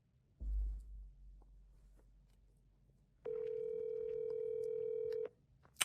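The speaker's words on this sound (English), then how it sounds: "Let's call him right now." A telephone call being placed: a soft thump and faint handling noise, then a steady electronic tone on the line for about two seconds before it cuts off, quiet and close.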